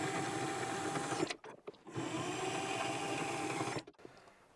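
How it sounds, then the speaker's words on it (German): Power saw cutting 40 mm flat steel bar into pieces for a mobile BBQ grill build, a loud steady whine running for over a second, a short pause, then another long cut before stopping. "werden wir jetzt erstmal 4 Stück davon zusägen"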